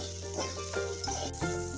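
Noodles stirred through in a frying pan in a Sri Lankan home kitchen, a soft continuous sizzle broken by scraping strokes of the spoon, close and moderately quiet with no speech.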